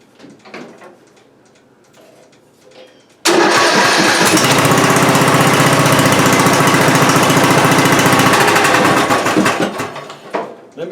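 Riding lawn mower engine that cranks and catches abruptly after a few seconds of quiet handling noises, then runs loud and steady nearby before dropping off near the end.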